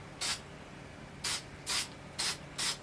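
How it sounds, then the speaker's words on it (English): Spray paint hisses from a can in five short, sharp bursts aimed at the bottom of a cup, close by with quiet pauses in between. "I'll get my drips, is when I'm trying to spray paint the bottom."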